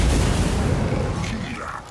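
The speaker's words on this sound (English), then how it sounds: "Have a go with our little missile here" A missile strike booms in Total War: Warhammer 2 battle against dwarves, a heavy, loud blast rolling out and fading over two seconds, with someone talking over the battle noise.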